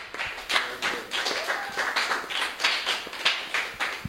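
Applause from a church audience during the presentation of a merit certificate, a steady patter of many hands with a few sharper claps standing out, sustained at moderate level.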